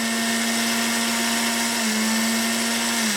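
An Oster 8-speed 6-cup blender, model BCCG08, runs close by with a loud, steady motor whine and a constant hum that dips slightly in pitch near the end; no one speaks.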